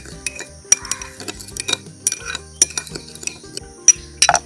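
A spoon stirs a yeast, sugar and warm water mixture for rose apple wine, clinking repeatedly against the container in quick irregular taps, close and alone with no talk.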